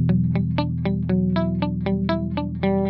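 Electric guitar played dry through an Analog Alien Super Kraken amp, a steady run of picked single notes with a bright attack and a low drone underneath, close and upfront with no voice.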